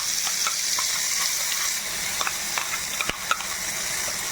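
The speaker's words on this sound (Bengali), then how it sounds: "তো এখানে এই পেস্টটা একদম ভেজে নিলাম।" Mustard and peanut spice paste frying in hot oil with green chilies and turmeric, a steady close sizzle with faint scraping and a few clicks of a utensil, no talking.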